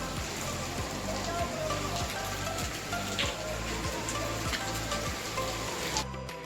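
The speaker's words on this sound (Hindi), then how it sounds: "तो बारिश जो है वो फिर से स्टार्ट हो चुकी है।" Steady rain patters on a surface nearby, a dense hiss with a low, rhythmic thumping underneath that cuts off near the end.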